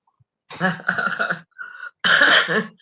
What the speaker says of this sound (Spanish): tengo catarro, voy a toser alguna vez